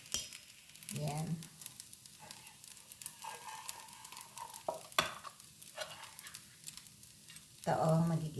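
Tuna sautéing in oil in a home kitchen pan, with intermittent stirring scrapes and soft sizzling bursts, loudest near the start and end, amid quiet background clatter; someone speaks at times.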